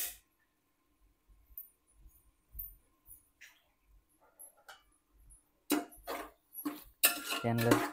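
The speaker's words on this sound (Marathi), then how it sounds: "त्याला थोडं मिक्स करून घ्यायचं व्यवस्थित, एकदा फिरून घ्यायचं. चिकन चांगलं त्याच्यात मिक्स झालं पाहिजे असं." Chicken and onion-garlic paste mixed in a metal pot, with sparse soft clinks and scrapes at first, then louder, denser spoon-on-pot clatter near the end, close by.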